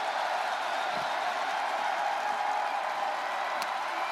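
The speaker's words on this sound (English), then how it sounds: "Listen to this crowd." A steady, dense roar of a cheering, applauding arena crowd in the WWE 2K24 wrestling game during a Roman Reigns versus Brock Lesnar match, loud and continuous throughout with no voices over it.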